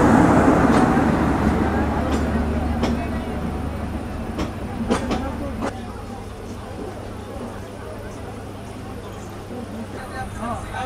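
A Bangladesh Railway express train made up of Indonesian PT INKA coaches running, its heavy rumble gradually easing with sharp intermittent clanks and rattles, and voices talking faintly underneath.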